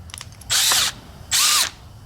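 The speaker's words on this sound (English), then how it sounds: "I'm gonna take a 1/4 inch drill." A 1/4 inch drill bit boring into thin mild steel on a dirt bike part, two short loud whining bursts of the power drill with a brief pause between, close and alone.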